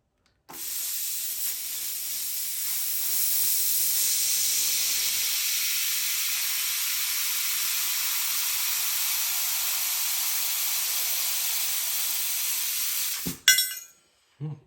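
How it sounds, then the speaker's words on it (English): An XLaserLab X1 Pro laser cuts 1/16 inch mild steel, producing a loud, steady hissing rush like escaping gas that holds for over twelve seconds before cutting off abruptly, followed by a few brief clanks. "we're gonna try some 16th inch mild steel and see how it does with cutting"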